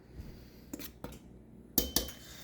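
Whisk and metal spoon scraping and clinking against a mixing bowl while cookie dough ingredients are stirred together, a few sharp clanks spaced unevenly over quieter scraping, close by with no talk.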